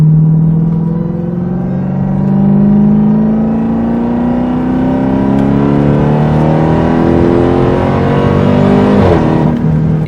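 A Dodge Durango Hellcat's engine drones loud and close as a car interior sound, the pitch rising steadily through a long pull before dropping sharply near the end; no talking.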